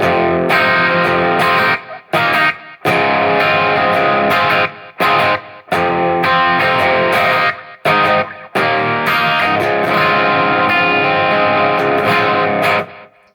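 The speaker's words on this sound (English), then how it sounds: "that's like a crunchy preset with some echo" A JBL Bandbox Solo practice amp plays electric guitar through a crunchy distorted preset with echo, loud chords and riffs ringing with short gaps between phrases, the repeats trailing into each pause.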